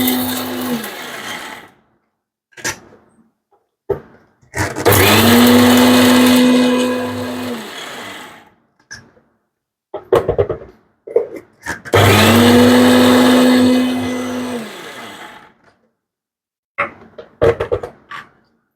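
Kitchen mixer grinder coarsely grinding a dry spice powder, loud bursts of whirring motor in two long pulses of about three seconds each, separated by short jolts, rattles and pauses.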